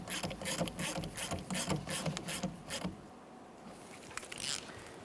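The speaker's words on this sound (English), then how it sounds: "Press that down as far as it can go, and then tighten your 10mm headed nut." A ratchet tightens the 10mm nut on the negative battery terminal of a 2005-2010 Chevrolet Cobalt, with about three seconds of rapid, close clicking followed by a short pause and a few more clicks.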